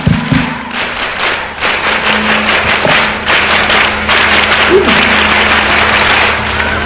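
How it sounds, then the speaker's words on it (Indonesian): Primary school pupils in a Dumai classroom perform the Indonesian scout clap, a burst of group clapping at the start followed by scattered taps and a dense, steady crowd din, with a few voices mixed in. "Dua kali tepuk pramuka."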